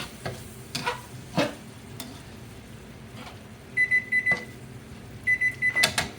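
Soy sauce being stirred into a pot of shrimp and rice: a few scraping strokes of a spoon against the pot, with repeated short electronic beeps from an appliance near the end.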